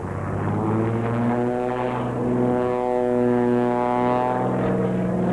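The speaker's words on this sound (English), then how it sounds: "just an ear-busting black and silver biplane packing a powerful 600 horsepower Pratt & Whitney" A 1937 Waco biplane, black and silver, with a 600 horsepower Pratt & Whitney radial engine, roars steadily and loudly throughout at an airshow, its deep propeller drone holding constant with no talk.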